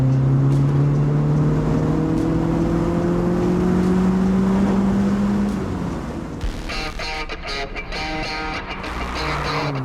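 A Lotus front-wheel-drive roadster accelerates hard on an open road from about 60 km/h, its engine note climbing steadily through the gears, loud and close, before shifting into a rougher, whooshing run.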